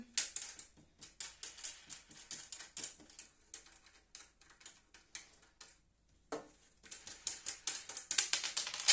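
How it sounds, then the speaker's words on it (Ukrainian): Screws are being unscrewed from an aluminium sluice box by hand, giving a run of faint, quick metallic ticks and clicks in irregular bursts, close up with no talking. "Ми відкручуємо гвинти."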